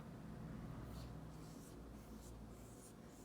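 A pen or marker scratches across paper while drawing the sun in a classroom science lesson, soft repeated strokes in short bursts over a quiet room hum.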